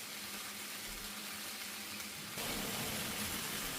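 Tomatoes and onion blister in a hot pan with a steady, quiet sizzle that jumps a little louder partway through, with no voices.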